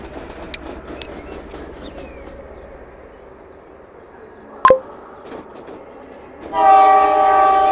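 A train in a rail simulation game pulls out of its depot, with sparse clicks and a sharp knock before a loud horn blast sounds near the end.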